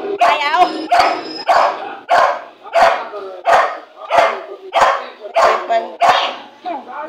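A dog named Kisa barks and yips in a rapid series of about ten sharp, loud barks close by, evenly spaced with short gaps between them.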